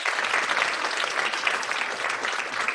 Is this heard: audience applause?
yes